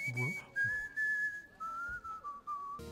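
Someone whistles a short melody of steady held notes that slide gently downward, close to the listener, while a few brief voices break in at the start and end.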